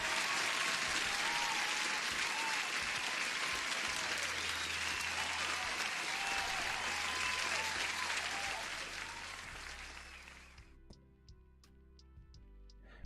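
Sustained audience applause fills a live day-trading event in London, loud and dense for about ten seconds before thinning out to a few scattered claps near the end.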